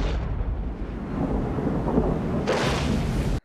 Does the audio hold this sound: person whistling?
no